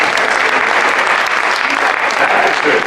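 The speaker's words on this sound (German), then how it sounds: "Oh, das ist noch Applaus." Sustained, dense applause from an audience at a company Christmas party show with a choir, loud and steady throughout without pause.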